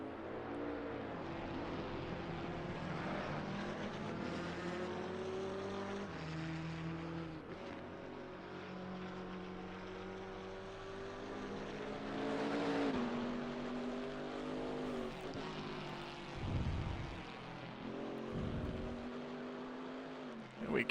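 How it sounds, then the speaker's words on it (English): A Chevrolet Camaro GT4 race car's American V8 screams in the distance during an endurance race, its rising and falling engine note faint and mixed with other passing cars, two short whooshing pass-bys near the end. "We can just barely hear that American V8 screaming in the background."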